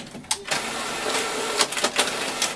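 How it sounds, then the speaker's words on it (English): An inkjet printer feeds and prints a logo onto felt fabric for craft labels, giving a steady mechanical whir with a few sharp clicks and carriage clunks throughout, close and moderately loud. "Okay, so put that in the printer."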